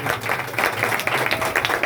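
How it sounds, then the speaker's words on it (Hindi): A church congregation at a Sunday meeting in Ludhiana claps for a sister's birthday, a dense burst of many hands applauding at once, loud and close. "और सिस्टर जी के लिए एक अच्छी ताली बजा दो।"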